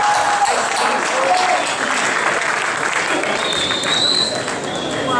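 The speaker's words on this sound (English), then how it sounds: "I think he deserves a round of applause." Sustained applause fills a press conference room for boxer Marcos Maidana after his second fight with Floyd Mayweather, a steady dense wash of clapping from the crowd with light murmuring throughout.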